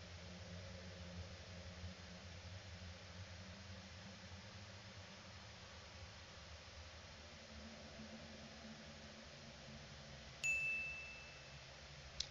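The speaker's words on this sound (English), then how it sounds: "I'm assuming all those dings are notifications" A single bright notification ding rings out near the end in the indie horror game Deadly Broadcast, standing clearly above a faint, steady background hum.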